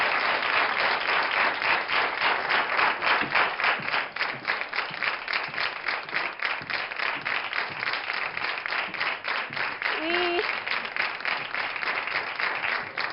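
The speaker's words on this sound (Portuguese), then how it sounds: "Uma salva de palmas para eles." Studio audience applause on a Portuguese TV health show, a dense, steady wash of clapping that fills the whole stretch at close range, with a brief voice-like tone rising faintly near the end.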